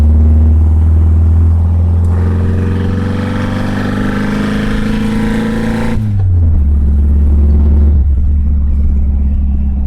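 A Saab Sonett's engine drones loudly from inside the small car while driving, the pitch climbing under acceleration, then dropping sharply as the driver lifts off and settling into a lower, steady hum.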